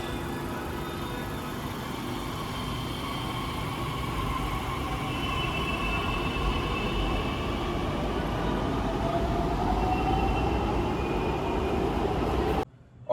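A Pune metro train runs at Ramwadi station with a steady, loud rumble and a rising whine that hold evenly for about twelve seconds before stopping abruptly, heard close from inside or beside the train with no talking.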